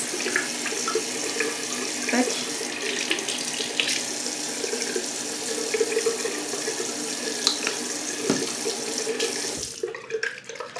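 Tap water runs steadily into a sink during face washing, a continuous close hiss with faint splashes, cutting off near the end.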